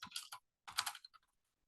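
Short bursts of typing on a computer keyboard, a few close quiet key clicks in two quick clusters separated by silence.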